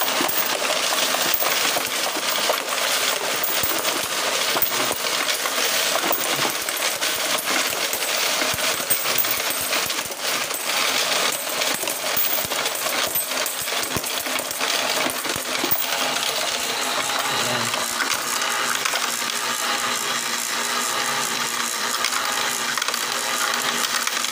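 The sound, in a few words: coins dropping through a DIY coin sorter machine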